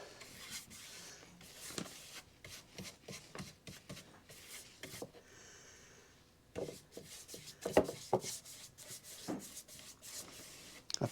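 A bristle brush spreads satin enamel paint across RV particle board in repeated short, soft scrubbing strokes, close and faint, with irregular rhythm and brief pauses between passes.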